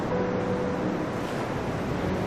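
Stormy water in the video game That Dragon, Cancer: a continuous broad rush of waves and wind, steady and moderately loud with no distinct breaks.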